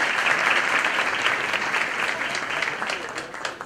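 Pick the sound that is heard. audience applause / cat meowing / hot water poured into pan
audience applause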